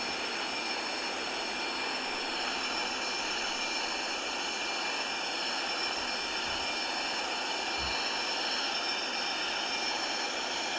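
Boeing 737 jet taking off in Seattle, heard from inside the cabin as a steady, loud broadband engine roar that holds without a break, with no talking.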